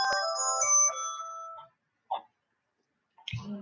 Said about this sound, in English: Now your phone is ringing